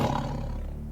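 A large tiger in an animated fable lets out a loud, deep, close roar that fills the whole moment on its own.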